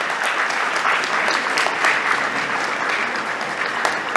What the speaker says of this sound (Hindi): जोरदार तालियों के बीच स्वागत करेंगे अजय जी का